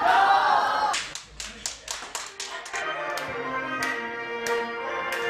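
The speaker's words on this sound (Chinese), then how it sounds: "觉得大家应该给点掌声" A few rhythmic hand claps from a television variety-show audience, celebrating a Ukrainian man dressed in Chinese opera costume before he sings Shandong Lü opera. The clapping is sparse and uneven, with music playing underneath.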